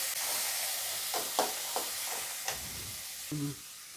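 Chopped onions and tomatoes sautéing in a pan for a kurma, a soft continuous sizzle broken by several distinct stirring scrapes and clinks of a spoon against the pan, with no voices.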